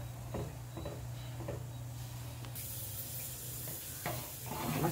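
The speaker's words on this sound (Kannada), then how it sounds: "ಮಸಾಲೆ ಕುದೀತಾ ಇದೆ" Spiced masala for a Mangalore-style fish curry simmering in a pan, a faint steady bubbling hiss with soft pops, heard close and alone.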